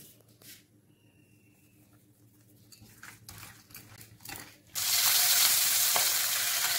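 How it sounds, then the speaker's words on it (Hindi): Salted pabda fish fries lightly in a pan, with faint clinks at first and then a sudden, steady, loud sizzle that keeps hissing to the end. "आज सिर्फ मछली में नमक जाएगा, नमक लगाकर हल्का सा फ्राई करना है"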